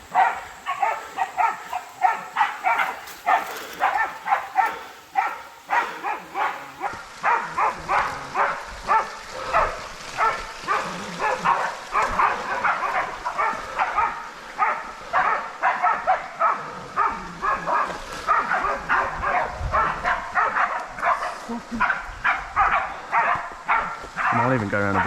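Hunting dogs bark repeatedly during a pig hunt in the bush, a steady run of sharp, fairly distant barks from several dogs that carries on for the whole stretch, with quiet voices now and then.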